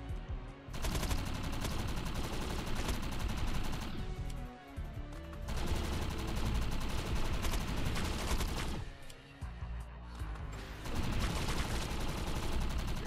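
Automated gun turrets in the game Defiance 2050 spray long, loud bursts of continuous fire, broken by two brief lulls before the barrage resumes at full intensity each time.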